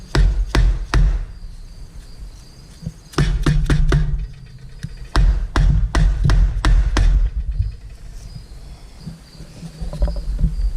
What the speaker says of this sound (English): we're going to give it a little tappy tap tap